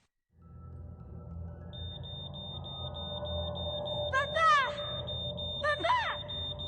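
A smoke detector alarm sounds in a home as a regular high-pitched beeping pulse over a steady background hum, while people talk and a child cries out.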